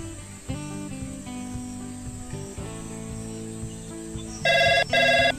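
Phone rings twice in quick succession near the end, short bright electronic bursts cutting in over continuous background music in a village comedy skit.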